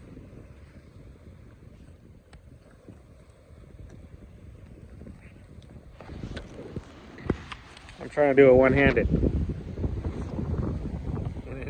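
Wind blows outdoors, buffeting the microphone with a steady low rumble throughout, gusting louder near the end, while a person speaks briefly over it.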